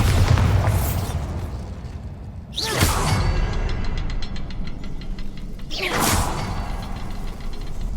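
Two booming Bombarda spell blasts in Hogwarts Legacy, each a sharp whooshing burst with a rumbling tail, a few seconds apart, loud and close over a constant ambient roar.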